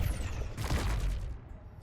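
A tool fired at a fish in the underwater game Subnautica 2 makes a short burst of splashy, crackling noise that fades out over about a second.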